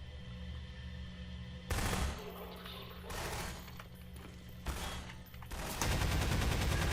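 Gunfire from a weapon in the video game Prospekt arrives in dense bursts, several rapid volleys of shots with brief gaps between them, loud and close over a steady game background.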